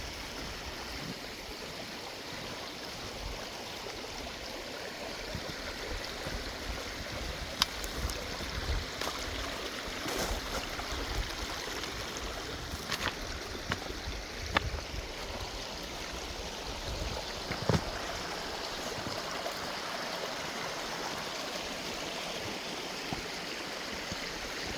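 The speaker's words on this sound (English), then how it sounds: "Waterfall." A river waterfall deep in bushland gives a steady, broad rushing roar that fills the whole stretch, with a few faint knocks and rustles from nearby movement and no speech.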